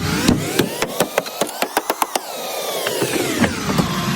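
A ball peen hammer strikes a metal floor about a dozen times in a fast, even rhythm, loud and close, over a constant background hum.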